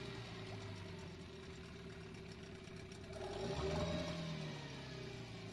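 Old Yamaha outboard motor, just out of storage after a year and a half, running at a low idle with a steady, close mechanical putter that swells briefly louder midway before settling back, with no talking.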